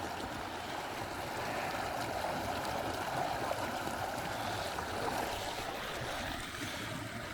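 Steady rushing water pours continuously at close range, a broad even roar like a small cascade, with no voices.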